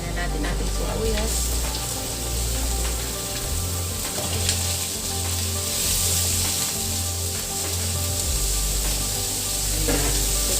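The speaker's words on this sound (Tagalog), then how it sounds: "Lutuin lang po yung ating sibuyas." Onions sautéing with ginger in a pan for arroz caldo with chicken, giving a steady, close sizzle with faint stirring scrapes that continues evenly throughout.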